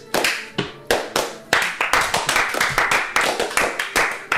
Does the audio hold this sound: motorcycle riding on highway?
no